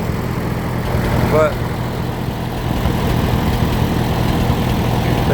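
A 1955 Allis-Chalmers WD45 tractor engine idles with a low, steady rumble throughout, someone talking near it over the running motor.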